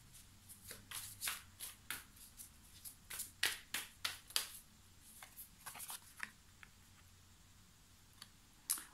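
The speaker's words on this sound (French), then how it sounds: "je vais recouvrir les cartes pour les préciser" Tarot cards are handled and laid out, with a series of close, crisp card slaps and shuffling flicks in an uneven rhythm. A few sharper snaps stand out and there is no voice.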